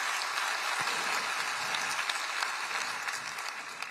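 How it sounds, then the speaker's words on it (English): Audience applause fills a large hall at a State of Orange County address, a steady dense wash of many hands clapping at moderate volume with no voices over it. "Yes, that does deserve a round of applause."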